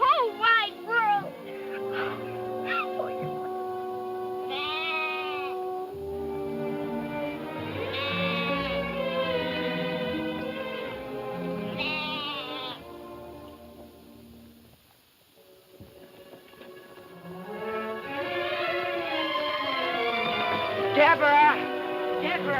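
Two young orphaned lambs bleating, high wavering cries repeated many times in bursts, close and fairly loud, with a gap midway before more insistent calls.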